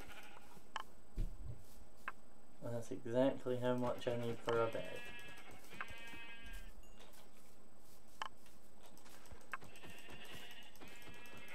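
Sheep in a video game give a run of several wavering bleats close by, then a few fainter ones later, while someone talks over and between them.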